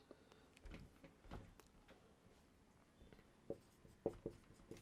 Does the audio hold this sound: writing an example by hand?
yes